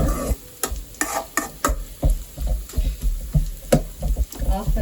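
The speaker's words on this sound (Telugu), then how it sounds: "కాకరకాయ ముక్కలు కూడా మనకి వేగిపోతున్నాయి" Bitter gourd pieces fry in a pan for a masala curry, with a sizzling bed under repeated loud scraping and stirring strokes at an irregular rhythm, close to the pan.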